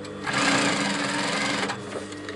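Sewing machine stitching Petersham ribbon onto a garment waistband, a steady fast whirring hum lasting a couple of seconds, close and alone.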